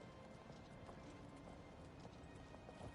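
Horse hooves clip-clopping in the video game The Elder Scrolls IV: Oblivion, a very faint, steady trot under a continuous background hum.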